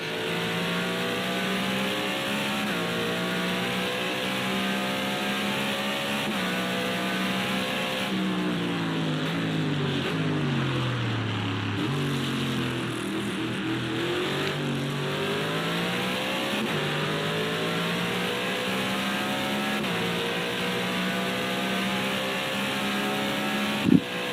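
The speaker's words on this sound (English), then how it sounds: "When you actually listen and take it in, it sounds very similar to a NASCAR." BMW V8 race car engine in the Project Cars 2 racing game, heard from the cockpit, roaring continuously with rising and falling revs through gear changes, loud and alone without talk.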